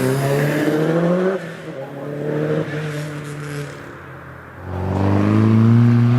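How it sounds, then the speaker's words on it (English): A Vauxhall Sunbeam rally car climbs the Prescott hillclimb with loud revving and gear changes that drop and rise again, and the engine builds to a strong roar at the end. "this is Kevin Knight driving the Vauxhall Sunbeam"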